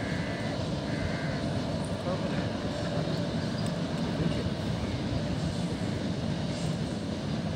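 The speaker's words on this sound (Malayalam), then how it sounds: "ഗുഡ്സ് ട്രെയിൻ പോവുകയാണ് ഗൈസ്." A slow goods train with its engine rolls past near Mahe, giving a steady, dense rumble and rattle that stays loud and unbroken throughout, with no talk.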